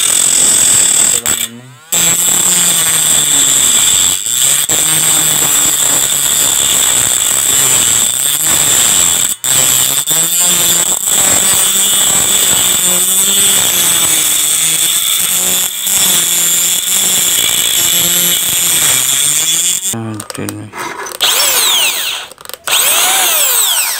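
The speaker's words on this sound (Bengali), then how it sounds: "এই জন্য আমি ছোট কাটার মেশিন দিয়ে কাটছি" A small handheld cutter machine slices through a rice cooker body during a repair, its loud, steady high-pitched whine running close and continuous with brief dips and stops near the end.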